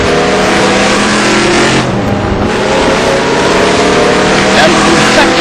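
Race car engines at Le Mans roar loudly and continuously as drivers lift off the throttle before a left-hander, the pitch dipping briefly then rising again, with a commentator talking over the noise.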